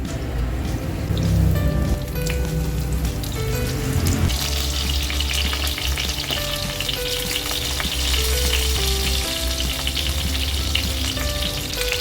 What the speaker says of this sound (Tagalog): piniprito na po natin itong bangus hanggang sa mag golden brown